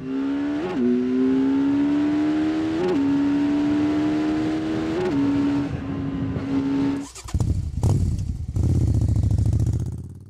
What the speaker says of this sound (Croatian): Koliko dobro motor ubrzava